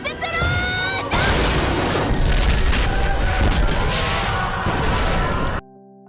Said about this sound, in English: Meanwhile, Megumin launched her explosion magic attack.